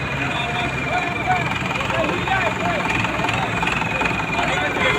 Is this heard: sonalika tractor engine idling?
yes